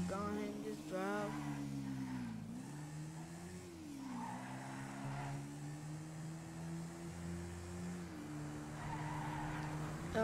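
Four-wheeler in a video game revs along an interstate, a steady low engine drone with pitch rising and falling as it accelerates, close and continuous with faint tire noise and no speech.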